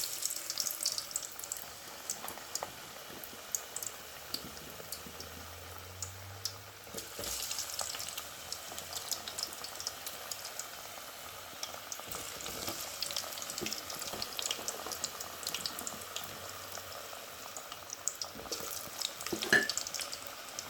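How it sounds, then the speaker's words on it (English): Potato pieces frying in hot oil inside a modified rice cooker with a non-stick pot, a steady soft sizzle and bubbling with faint clinks, heard alone at close range for about twenty seconds. "I put already one potato piece inside to test if it's hot enough, and the oil should be hot enough now"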